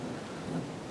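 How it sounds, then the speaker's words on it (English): Rain falling steadily at a Florida exotic hunting ranch, a short stretch of dense, soft hiss with a low rumble underneath, faint and with no voices. "Right now it's still raining pretty good, so we'll see what happens."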